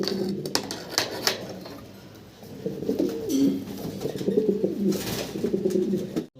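Domestic pigeons cooing in a loft, with repeated low, throaty coos rolling close by, overlapping steadily, alongside a few light clicks and rustles.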